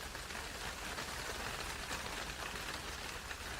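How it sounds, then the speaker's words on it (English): Hail falling outside, a dense, steady patter of hard drops on surfaces, continuous and fairly even with no voices. "I think I can hear hail."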